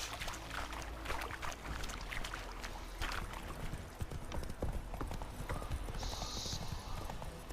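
Galloping horse hooves in The Witcher 3 video game, a steady rapid clip-clop running throughout, fairly close, with faint background ambience and no talk.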